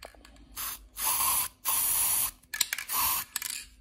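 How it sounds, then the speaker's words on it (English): Several bursts of spray paint hissing from an aerosol can into a lid, each about half a second long with short pauses between, close and fairly loud, with faint rattling in the gaps. "I'm just going to spray some spray paint into the lid"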